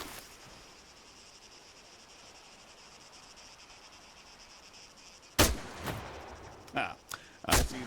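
Rifle shots fired down range in the video game ARMA III ring out after a long stretch of quiet outdoor ambience with faint insects, several sharp loud cracks spaced irregularly.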